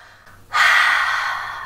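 One long, deep breath is drawn in sharply through the nose and mouth for a vacuum abs exercise. It is close, loud and breathy and stands alone.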